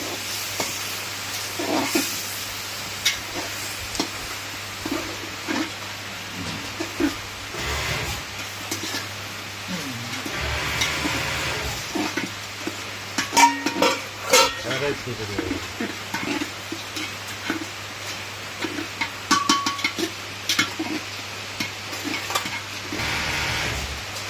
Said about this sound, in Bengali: ডালে চালে একসঙ্গে দিয়ে দিলাম এখন নাড়াচাড়া করে